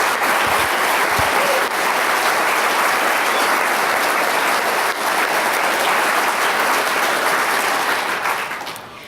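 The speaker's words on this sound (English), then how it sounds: "A big round of applause to all of our graduate inductees." Sustained applause from an audience at an academic honor society induction ceremony, many hands clapping steadily for several seconds before fading at the end.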